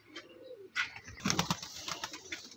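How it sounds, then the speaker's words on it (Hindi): Pigeons coo and shuffle inside their coop, with soft low cooing, brief chirps and a flutter of wings close by, fairly quiet overall. "कबूतरों की आवाज़ अंदर से आना शुरू हो गई है"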